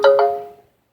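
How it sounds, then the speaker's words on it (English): A notification chime rings out during a scripture reading: two bright, close tonal strikes a fraction of a second apart, each ringing and then decaying away to silence. "these damn notifications coming up"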